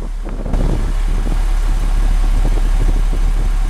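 A 2003 International 7400 truck sits with its engine idling, a steady low diesel rumble that starts abruptly and holds constant and close with no one speaking.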